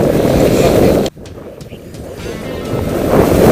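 Wind buffeting a microphone in a steady low roar, cutting out sharply for a moment before the gusting rises again.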